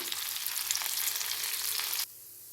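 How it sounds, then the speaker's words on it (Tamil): A loud, steady sizzle of potatoes frying in hot oil crackles for about two seconds, then abruptly drops to a much quieter hiss. "இப்போ அதை நம்ம எண்ணெயை காய வச்சுட்டு ஃப்ரை பண்ணி எடுத்துக்கலாம்"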